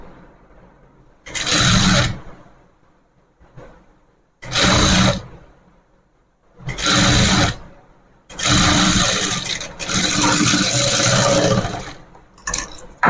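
Foot-pedal sewing machine stitching in bursts of fast mechanical whirring, five loud runs of a second or two each separated by quiet pauses, the longest lasting about three seconds, with no talk.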